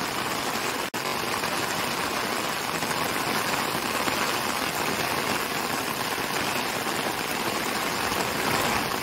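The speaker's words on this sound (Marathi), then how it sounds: "पावसाने आता जोरदार हजेरी लावली आहे बघा" Heavy monsoon rain pours down on a Konkan village during rice farming, a dense, loud, continuous hiss with one brief dip near the start and a faint engine-like hum under it.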